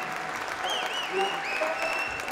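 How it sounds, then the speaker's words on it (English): Applause from the audience at a Cornel West keynote in New York City, a thick, steady patter of clapping with whistles and cheering voices rising over it. "please give a massive round of applause"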